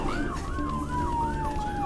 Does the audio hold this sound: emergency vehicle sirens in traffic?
yes